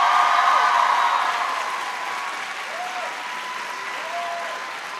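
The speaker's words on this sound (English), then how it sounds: "Please give her a big round of applause." Applause from an audience at a back-to-school speech, with dense, steady clapping that fades slightly and carries a few faint cheers or whistles.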